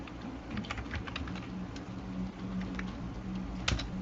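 Rapid keystrokes clatter on a computer keyboard, a quiet, close, irregular patter of taps with one sharper key press near the end, and no voices.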